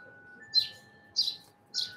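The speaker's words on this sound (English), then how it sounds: "I can't turn the birds off" Three short, bright bird chirps come at regular intervals, each one clear and fairly close, over a faint steady electronic hum with no talking.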